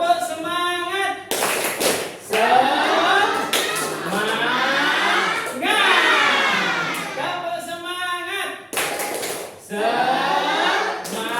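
Children perform a 'tepuk semangat' clapping chant in an Indonesian sixth-grade classroom lesson, with bursts of rhythmic group clapping between chanted voices, loud and close throughout.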